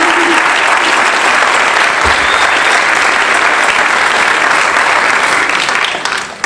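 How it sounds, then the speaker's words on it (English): A school band concert audience gives loud, sustained applause, a dense crowd of clapping hands that keeps going without a break and eases off only at the very end. "Let's give them a round of applause"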